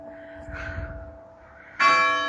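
A church bell at St James, Ansty, strikes the hour of twelve on a timer, one loud, ringing stroke arriving near the end after the fading hum of the previous one, with no voices.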